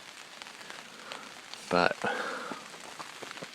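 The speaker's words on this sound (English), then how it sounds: "It's raining outside, not sure if you can hear the sound of the rain." Rain patters steadily on a tent during a camping trip in Maine, a soft, even hiss throughout, with a person briefly speaking partway through.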